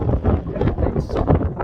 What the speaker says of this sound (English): It's getting windy up here. Wind's picking up, storm's coming in.